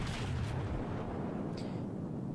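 Warship cannons fire in the video game World of Warships, giving a deep rumbling boom that rolls and fades, with a second fainter blast shortly after.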